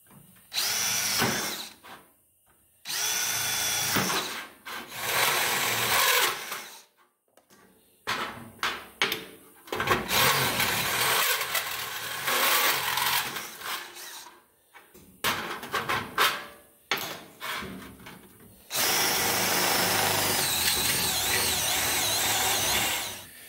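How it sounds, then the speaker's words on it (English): An electric drill cutting holes in sheet steel for a hood scoop, running in several loud bursts of high whining grind separated by short pauses and a few clanks. "So now let's drill them out."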